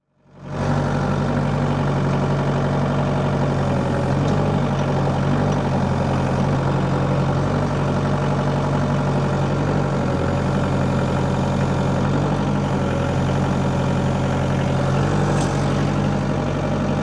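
A tractor engine idles continuously with a deep, even rumble, close by and unchanging throughout.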